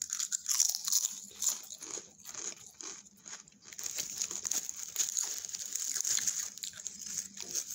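Potato chips from a bag, eaten with ketchup and tomato sauce: close, crisp crunching bites in an irregular rhythm, each burst followed by softer chewing and occasional quiet pauses.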